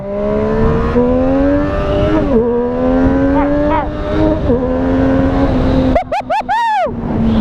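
A Triumph Street Triple RS 765 motorcycle pulls hard in first gear with a loud, close engine note rising steadily in pitch. Brief dips between surges mark gear changes, and a sharp revving burst comes near the end.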